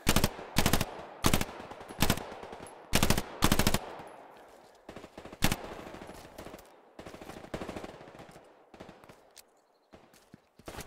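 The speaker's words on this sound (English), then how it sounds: "We're getting lit up from over there by an MG." Machine gun fire in the World War II shooter game Hell Let Loose: loud, sharp bursts of rapid shots repeat in a rhythmic pattern, then give way to quieter, more scattered firing and distant shots.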